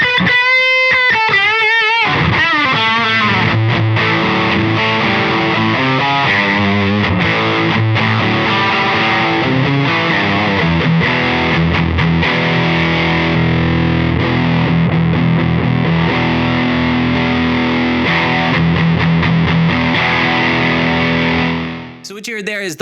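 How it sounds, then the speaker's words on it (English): Electric guitar through a Limelight overdrive stacked with a Rattler rat-circuit distortion pedal: a few clean-ish notes, then a long, loud stretch of thick, gritty driven chords and riffs, ending abruptly. "At that point, I'm going to add a rattler on top of it, and this is a rat circuit."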